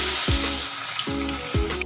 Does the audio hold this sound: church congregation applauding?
no